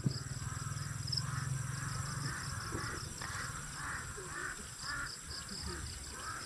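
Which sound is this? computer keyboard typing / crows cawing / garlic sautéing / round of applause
crows cawing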